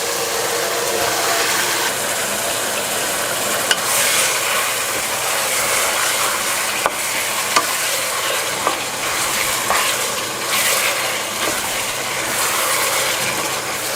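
Meat frying with spices in a pot for tehari gives a loud, continuous sizzle and crackle, with occasional sharp clacks of a spoon against metal throughout.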